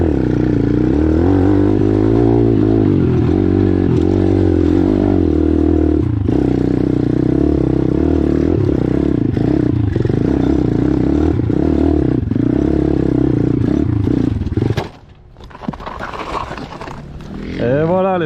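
A 150cc RXF enduro dirt bike rides hard over rough ground, its engine note rising and falling loudly and continuously with clattering, then cutting out abruptly near the end before restarting with scraping noise.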